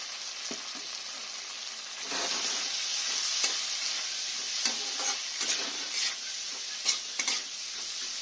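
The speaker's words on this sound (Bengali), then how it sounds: "চিংড়িটা ততক্ষণ ভাজা হোক" Prawns seasoned with salt and turmeric fry in a pan with a steady, close sizzle, broken by occasional stirring scrapes and brief louder crackling bursts; no one speaks.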